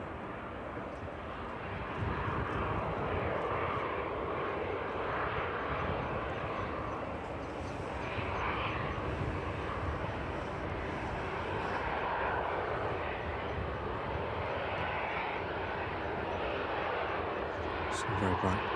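A Ryanair airliner lands at East Midlands Airport in the evening, its engines giving a steady, broad roar throughout while a person talks over it.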